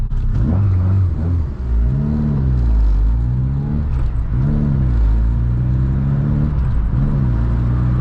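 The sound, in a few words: VW MK2 16V engine with CBR900RR carbs accelerating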